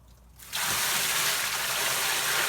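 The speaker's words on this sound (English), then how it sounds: "pour the clay through this 1/4 inch mesh screen." Homemade clay slurry pours through a 1/4 inch mesh screen in a steady, close, broadband rush of liquid that starts abruptly after a brief quiet moment and continues evenly.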